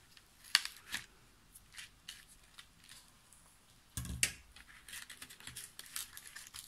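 Scissors snip through material while taking apart a Monster High jewelry box, giving several faint, scattered cuts and clicks close by with quiet handling noises between them.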